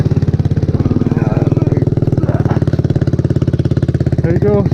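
A trike's engine idles and revs steadily at close range while it drives up onto a trailer, the motor note rising slightly near the end.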